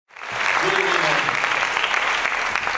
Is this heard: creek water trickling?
no